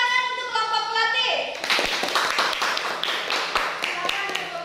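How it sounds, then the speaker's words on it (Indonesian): Schoolchildren in a classroom clap for a group of classmates, a burst of quick, uneven claps beginning partway through after a voice, continuing with crisp taps close by and children's voices mixed in. "tepuk tangan untuk kelompok pelatih."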